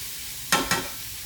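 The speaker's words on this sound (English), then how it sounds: "we're cooking the onions and the mushrooms" Onions and mushrooms cooking in a pan for chicken stroganoff, with a low steady sizzle under two quick, close scraping stirs.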